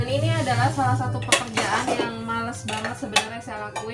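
Dishes, pots and cutlery clinking and clattering while being washed, sharp intermittent knocks under someone talking, with a steady machine hum in the background.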